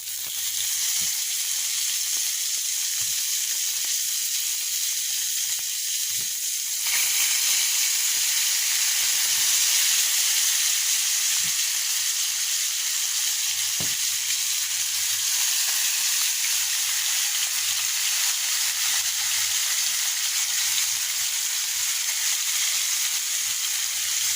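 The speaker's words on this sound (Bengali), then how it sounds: "এবার ক্যানে তেল গরম হয়েছে ফ্রাই করতে দিয়ে দেবো" Koi and rui fish pieces rubbed with turmeric and salt fry in hot oil in a pan, producing a loud, unbroken sizzle and hiss. Faint knocks and clatters sound now and then, and the frying surges louder partway through.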